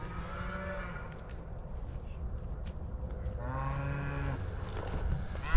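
Cattle moo loudly and close by as they are moved, with two long drawn-out bellows, one at the start and another midway, over low rustling farm noise.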